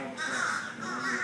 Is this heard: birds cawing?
yes